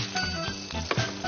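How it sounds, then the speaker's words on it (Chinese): Pork coated in a sauce of pickled lantern chili, pickled ginger and garlic hits a hot wok and is stir-fried, giving a brief, fairly quiet sizzle with light scraping and clinks of the utensil against the pan. "秘制猪肉下锅"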